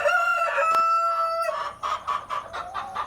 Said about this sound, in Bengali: টাইগার মুরগির প্যারেন্টসের খামার।